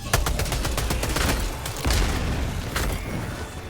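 Grenade blast and gunfire in Helldivers 2 during an Automaton fight: a rapid crackle of shots and booming impacts, with a heavy explosion burst near two seconds, loud and close.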